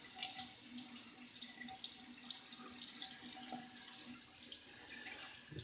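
A tap runs steadily into a sink to rinse a shaving soap tub, a close, continuous splashing hiss with no talk.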